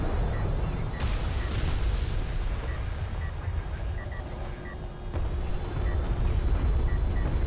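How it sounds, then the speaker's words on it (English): Artillery fire rumbles through a real-time strategy match, with dense, continuous low booms and bursts layered over one another as shells land on railgun units. "Artillery is going to pick off another railgun"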